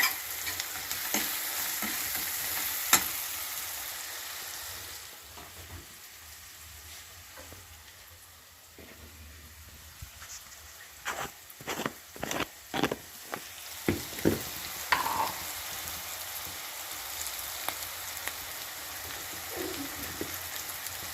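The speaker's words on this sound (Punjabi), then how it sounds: "ਬਰਾਊਨ ਕਰਾਂਗੇ ਫਿਰ ਇਹਨਾਂ ਤੇ ਮਸਾਲੇ ਪਾਵਾਂਗੇ ਸਾਰੇ" Eggplant for Punjabi-style bharta fries in a pan with onions, a steady sizzle under clustered scraping strokes of a spoon stirring near the end.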